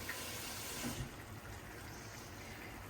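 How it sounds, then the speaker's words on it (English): Water pours steadily into a pot of turkey berry curry, a faint, even rushing splash that is a little fuller for the first second and then settles into a quieter, continuous flow with no talking. "Add some more water."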